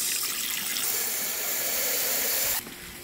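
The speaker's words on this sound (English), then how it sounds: "Gonna go ahead and fill it up with water and get it soaking." Tap water runs steadily into a bucket, a bright continuous gushing hiss close by, then cuts off abruptly near the end.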